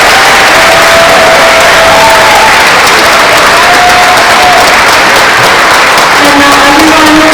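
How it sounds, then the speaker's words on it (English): An audience at a 2023 National Honor Society induction ceremony applauds new members. The clapping is loud and dense, a sustained wash of crowd noise with some faint voices and tones mixed in. "please join me once again in applauding our new Honor Society members"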